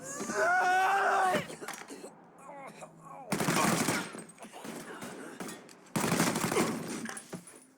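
Bursts of rapid gunfire from a Mafia III shootout come in dense stretches, broken by gaps, with someone shouting at the start and voices mixed in between the volleys.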